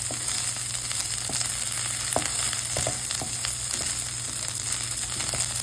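Fresh-cut sweet corn sautéing in a pan, a steady close sizzle with scattered small pops and light scraping from stirring, even and continuous, no speech.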